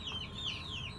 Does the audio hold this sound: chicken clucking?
yes